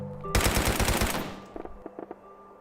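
Automatic gunfire from a weapon in an in-development video game: a loud, rapid burst of shots lasting about a second, then a decaying tail and a few softer mechanical clicks.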